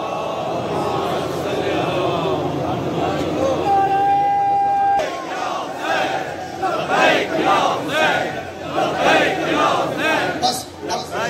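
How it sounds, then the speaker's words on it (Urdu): Large crowd at a Muharram procession in Sialkot reciting salawat aloud in unison, a dense roaring chant of many voices that swells in repeated waves, with a single voice calling at first before the crowd joins. "ایک صلوات پڑھ لیں، بلند آواز سے صلوات پڑھ لیں."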